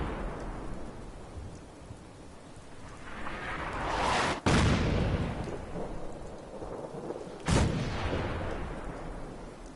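Artillery fire in Fallout 4: a rumbling roar builds to a sharp, heavy blast, followed a few seconds later by a second booming impact over a continuous low rumble.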